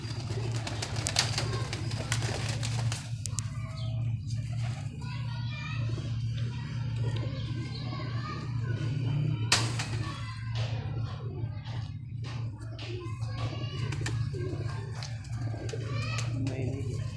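Pigeons coo steadily at close range in a loft, their soft repeated calls layered over a constant low hum, with a few sharp flutters and knocks in between.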